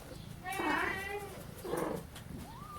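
Kittens in a barn give two or three thin, high meows, faint and close, with quieter barn background noise and a soft trailing squeak at the end.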